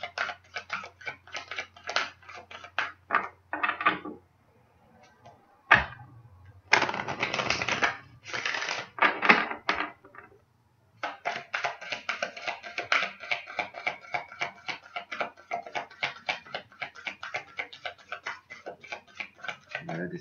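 Oracle cards are shuffled and drawn by hand: quick papery ticks and flicks in rapid runs, broken by short pauses and a louder burst of handling, close and fairly quiet.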